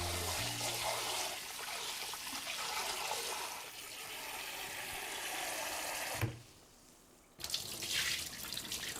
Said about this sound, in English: We need to wash this rice 3 times.